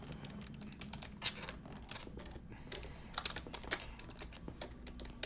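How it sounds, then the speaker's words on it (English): Someone types on a computer keyboard while streaming, a close run of soft, irregular key clicks with a few sharper, louder taps, heard alone without talk. "it's just I'm typing on Twitter"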